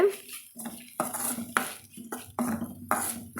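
A spoon scrapes and knocks against a pan while soaked, cooked urad dal sundal is stirred and tossed, giving rhythmic metallic clinks and scrapes at close range with short quiet gaps between strokes.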